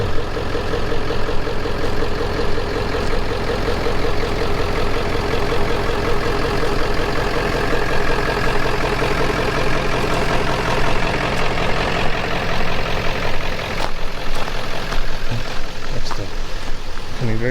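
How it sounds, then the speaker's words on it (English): Diesel vehicle engine idling and creeping slowly along a campground loop road at a lakeside state park, a steady loud throbbing rumble that continues the whole time, close by. "can hear that diesel in the background."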